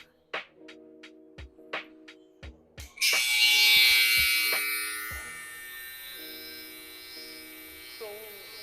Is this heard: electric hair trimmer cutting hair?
yes